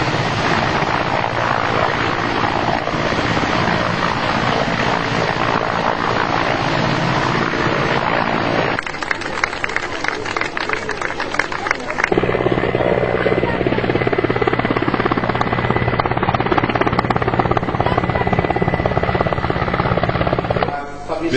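Helicopter at a school helipad used by Air Force personnel, its rotor and turbine producing a continuous loud droning buzz that shifts character partway through and keeps going throughout.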